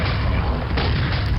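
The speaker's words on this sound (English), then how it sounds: "The super nail gun has been enhanced." A super nail gun fires in the Quake video game, producing a continuous, dense, rapid stream of mechanical firing with a booming low end, loud and unbroken.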